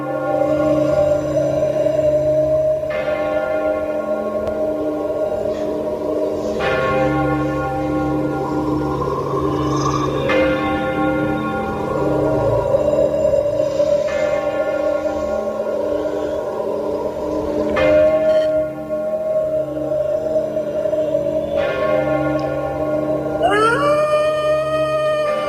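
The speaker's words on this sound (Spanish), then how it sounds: "Las campanadas." Church bells toll slowly in a horror story, deep resonant strikes repeating every few seconds and ringing out over a droning, eerie background, with no voices.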